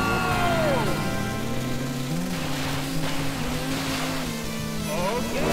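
Jet ski engines revving at the start line of a race in the video game Wave Race 64, a loud whining drone with rising pitch sweeps over splashing water and game music, with a voice speaking partway through.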